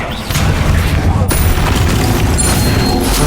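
A Bombarda spell goes off in Hogwarts Legacy, a loud, close, booming blast with a crashing rumble that fills the whole moment, with no voices over it.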